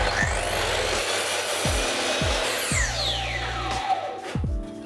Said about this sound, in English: Now I want to cut these two upper pieces to the same size as that lower shelf I just cut.